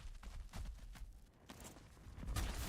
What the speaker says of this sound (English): Hearing a soldier stomp